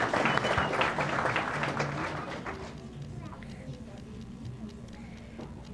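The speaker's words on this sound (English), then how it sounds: "Let's give another big round of applause for all of our artists here." School board meeting audience applauding student artists, a dense burst of clapping that fades after a few seconds into quieter room noise with scattered ticks.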